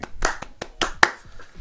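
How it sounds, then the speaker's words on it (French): A small audience applauds a guest on a French show: a handful of sparse, separate claps, close and fairly loud with gaps between them, then fading out. "Je vous demande d'applaudir Vincent Dramout."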